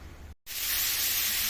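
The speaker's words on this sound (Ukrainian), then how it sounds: "Як вкусно воно шкварчить у вас тут все" Food frying in a pan gives a steady, bright sizzling hiss that starts suddenly after a brief gap and stays loud and close, with no talk over it.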